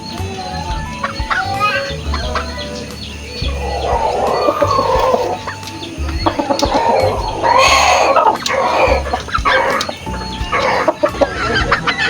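Backyard bloodline chickens clucking and chattering close by, with a steady busy texture of several birds and some louder squawks toward the end.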